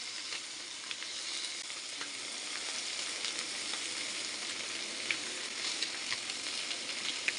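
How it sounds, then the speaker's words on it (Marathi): Paneer cubes fry in a nonstick pan with a steady, close, crackling sizzle that runs evenly throughout, with a few sharper pops and no voices. "शक्यतो नॉनस्टिकमध्येच फ्राय करायचे"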